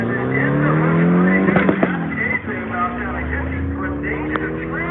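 A fastback car accelerates hard on a timed drag-strip run, its engine rising in a loud, close roar before the pitch drops on a gear change, with people talking around it.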